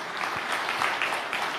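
A Bethel Indonesia church congregation breaks into dense, steady applause, many hands clapping together in a brief, lively burst with no voices on top.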